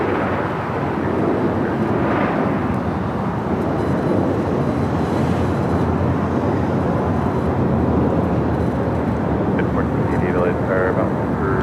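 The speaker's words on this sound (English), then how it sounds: "The next takeoff is the flight American Airlines flight 1098 in the A321neo." An American Airlines A321neo taking off from runway 25 right at LAX, a continuous broadband engine roar that holds steady throughout at moderate distance, with faint talk audible over it.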